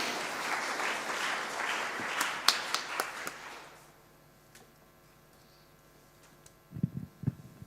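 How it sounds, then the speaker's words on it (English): An audience applauds after a talk at the AI Sauna Inspire event, with a dense wave of clapping and a few sharp individual claps that fades to near quiet, followed by a few faint thumps. "Now you can applaud."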